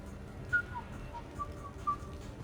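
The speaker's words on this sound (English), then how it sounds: "Are you whistling?" A character in the video game Mass Effect 3 whistles a short, soft tune of a few gliding notes over a low ambient background, with no talking.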